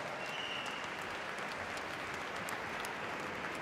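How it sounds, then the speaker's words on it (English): Audience applause at the Blackpool Dance Festival Latin championships, a steady wash of many hands clapping in a large ballroom, even and sustained throughout with no talk over it. "I think they deserve a round of applause for sneaking out to their spots."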